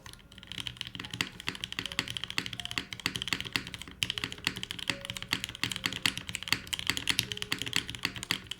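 Typing on an Ayleen TKL mechanical keyboard: rapid, steady clacking keystrokes up close, continuous and alone with no talk.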